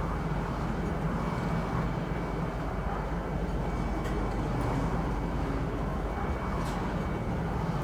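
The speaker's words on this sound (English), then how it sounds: "So the train's taking us through all the industry." Steady, loud rumbling roar of a train ride through the industrial city of Lorville on the planet Hurston in Star Citizen, a continuous broadband drone with no breaks and no talking.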